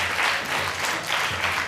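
A crowd applauds a jury member at a talent competition, with continuous clapping that is loud and close and no talk over it.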